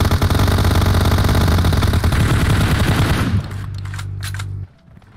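PUBG Mobile gunfire: loud, dense rapid shooting dominates for over three seconds over a steady low engine drone from a motor glider, which continues alone until it cuts off near the end.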